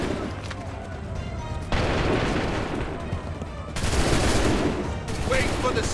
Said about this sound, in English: Wait for my signal. Open fire. Make ready. Shoot!